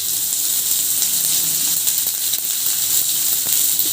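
Chopped onion hitting hot oil in a pan with cumin and chilli, a steady close, loud sizzle and hiss that holds throughout with no talk.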